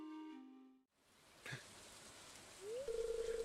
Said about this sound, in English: Shinsu, why are you out here in the rain?